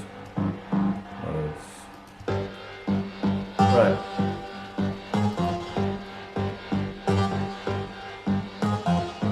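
A Serum synth lead preset in a remix session plays a pulsing, tonal line of evenly repeated notes, fairly loud, with a voice speaking briefly near the start.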